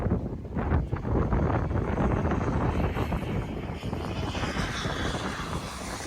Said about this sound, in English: 1/5 scale F-16, along with Jet Legend L-39s